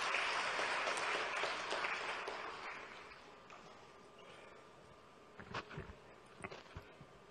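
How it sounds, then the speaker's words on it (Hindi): Applause from an audience welcoming the Chief Minister at a public government event, a dense clapping wash that is loud at first, fades over a few seconds, then leaves a few scattered claps. "आइए जोरदार तालियों से स्वागत करें"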